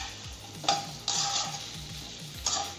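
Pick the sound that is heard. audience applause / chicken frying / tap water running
chicken frying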